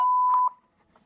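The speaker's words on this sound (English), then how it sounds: "There we go, sensor beep." A single steady electronic beep, clear and close, sounds from a sensor in the horror video game Five Nights at Spy's Night 3, holding for about half a second before cutting off into near silence.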